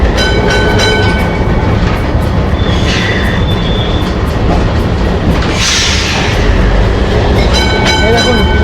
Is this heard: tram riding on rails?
yes